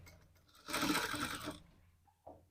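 Sewing machine stitching folded cloth, a short close burst of rapid mechanical stitching lasting under a second, followed by a faint click, with no one talking.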